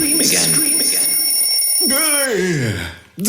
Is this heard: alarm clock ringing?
yes